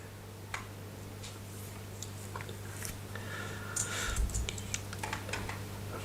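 Faint, sparse keyboard typing while coding a web filter. Scattered light key ticks sit over a steady low hum, with a short denser burst near the end.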